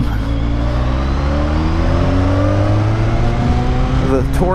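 A 2012 BMW K1300S motorcycle accelerates hard, its engine roar climbing steadily in pitch and staying loud and close throughout, with a brief rising whine at the end.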